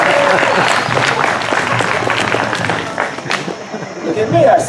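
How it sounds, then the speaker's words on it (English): An audience at a comedy poetry performance breaks into loud applause mixed with cheers and crowd chatter, the clapping thinning a little toward the end as murmuring voices come through. "Applaud that man, applaud."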